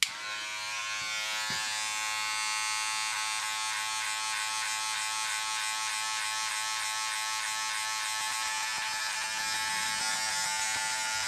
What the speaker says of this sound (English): you're resting the clipper flat on your head and going straight up